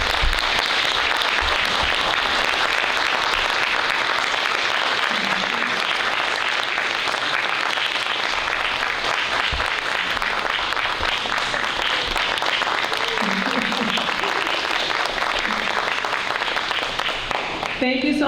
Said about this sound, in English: I just want everybody to give them a big round of applause.